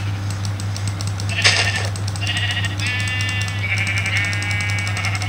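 Minecraft sheep bleating in several short, wavering calls over a steady low drone and faint clicking from the game.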